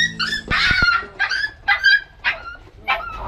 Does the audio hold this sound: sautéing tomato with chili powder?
no